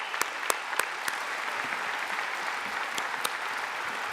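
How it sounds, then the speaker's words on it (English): An audience at an annual meeting gives a steady round of applause, dense clapping with a few sharper claps standing out near the mic, no talking. "Let's give her one more round of applause."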